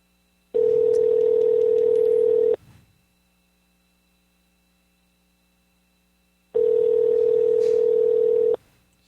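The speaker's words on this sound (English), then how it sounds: "She's not answering the phone." A telephone ringing tone on an unanswered call: two long, steady electronic rings about two seconds each, separated by a silent gap, clear and alone.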